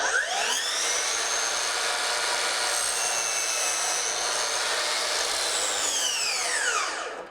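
A power miter saw cuts crown molding set against a FastCap Crown Stop fence: the blade spins up with a rising whine, bites through the wood in one steady cut, then winds down.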